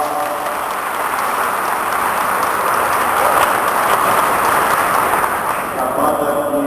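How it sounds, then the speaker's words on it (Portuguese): A crowd applauds the municipal band at a city emancipation Mass, a dense, steady wash of clapping that swells slightly midway and stays loud and continuous. "Peço uma salva de palmas para a nossa"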